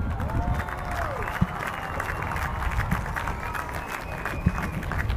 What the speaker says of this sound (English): Put your hands together and give a rousing applause for these mighty ships